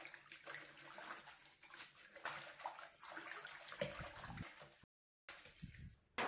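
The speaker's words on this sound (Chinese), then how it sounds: "摘回来的艾叶用清水多清洗几遍" Freshly picked mugwort leaves are rinsed and swished in clean water, giving continuous close splashing and sloshing with a brief drop-out near the end, no voices.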